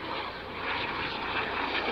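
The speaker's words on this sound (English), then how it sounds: "Oh, it's a helicopter." A blue and yellow emergency rescue helicopter flies overhead above open moorland on the Pennine Way, making a loud, steady roar that swells slightly as it passes.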